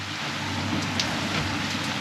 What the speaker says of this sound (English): I'm not going in that rain.